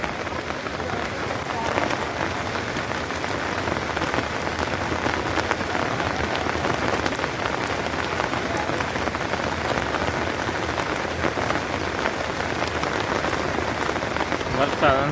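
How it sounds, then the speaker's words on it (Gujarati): Heavy rain pours down steadily in a sustained, dense hiss of drops drumming on surfaces, loud and unbroken throughout as floodwater rises outdoors. "વરસાદ અંધરાધાર પીડ્યો."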